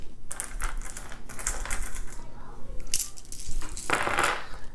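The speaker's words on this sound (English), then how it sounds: "We'll re-roll the dice." Dice for the board game Trismegistus: The Ultimate Formula being rolled and re-rolled, a series of close clattering rattles and clicks that come in uneven bursts across the table.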